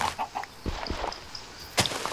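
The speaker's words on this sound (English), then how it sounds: "Come on, chicken. You got this." A chicken in a video game clucks in short, scattered bursts at moderate loudness, with clicks and game noise between calls and no talk.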